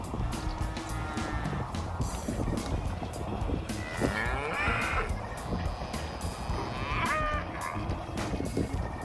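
Cattle low and moo while being fed on a farm, several drawn-out calls rising over a busy background of rustling and movement, with occasional voices.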